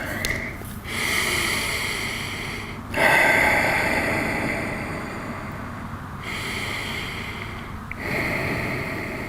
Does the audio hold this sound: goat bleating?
no